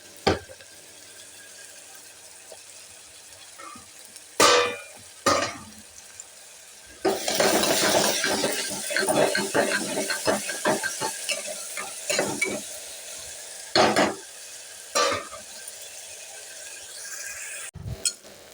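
Onion pieces with turmeric fry in a pan until light brown: scattered spoon knocks at first, then a long stretch of loud sizzling and scraping as they're stirred, followed by a few more clanks.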